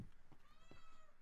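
A cat gives a faint, drawn-out meow that sounds like a low moan, set back from the microphone in a quiet room.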